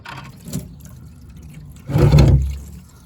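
Water gushes from a loosened drain plug on a 1981 Dodge Mirada dirt track car abandoned for 16 years, a loud rush for about a second, preceded by a brief splash and faint trickling, no voices.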